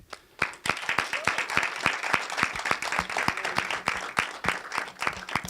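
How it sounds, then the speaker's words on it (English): A crowd claps and applauds continuously, dense overlapping hand claps filling the room for several seconds. "let's have a final round of applause for Interrogation, Andrei Olaru"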